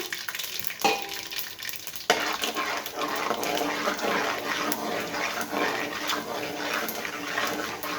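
Urad dal and chana dal fry in hot oil for tamarind pulihora, giving a steady close sizzle with a few sharp clicks and stirring scrapes near the start.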